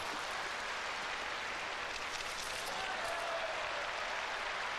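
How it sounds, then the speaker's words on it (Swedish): An arena audience at a 1988 show jumping event applauds after a horse's jump, a sustained dense wash of clapping heard at a distance throughout. "Och man applåderar efter varje språng här."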